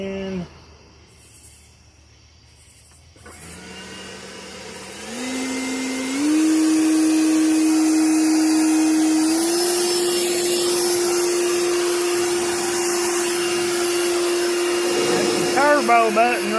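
Worx Nitro 40-volt battery electric lawnmower running on turbo: a whining motor hum that steps up in pitch in stages and then holds a loud, steady drone, alone with no talk.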